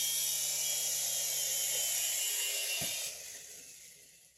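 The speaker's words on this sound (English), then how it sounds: "So that was the flight review of the Altitude 2-channel helicopter by Propel." A Propel Altitude two-channel RC toy helicopter comes down to land on a ping pong table indoors, its steady high-pitched rotor whine holding near and then dropping away as the motor spins down.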